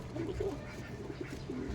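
A visiting pigeon resembling a Tippler at a loft gives soft, low coos in short phrases, faint against a quiet background hum.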